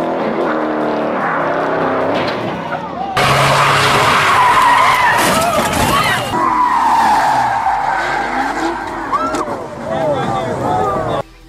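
An older Ford Mustang skids with sharp, wavering tire squeals, engine noise surging in and out as the car slides; loud and close, with repeated screeching bursts over roughly eleven seconds and a sudden cutoff.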